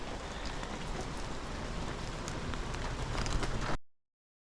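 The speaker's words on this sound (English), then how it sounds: "we had to set off back out into the rain" Steady rain falls outdoors in the Scottish Highlands, a dense, even hiss of drops close by that grows slightly louder before cutting off abruptly.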